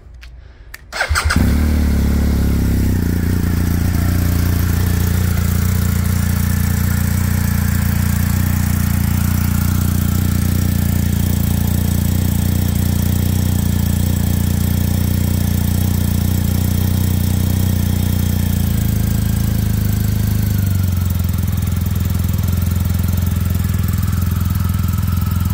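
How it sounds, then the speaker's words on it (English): After a brief quiet moment, a 2023 BMW R 1250 GS Adventure motorcycle engine cranks and catches, then settles into a steady, loud idle that runs on unchanged for the rest of the clip. "Next, we can start the motorcycle."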